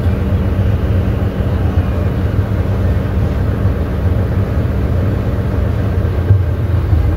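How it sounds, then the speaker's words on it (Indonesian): Container truck rumbling along a road in heavy traffic, a loud, steady low engine and tire drone that continues without a break. "Ini truk kontainer nih."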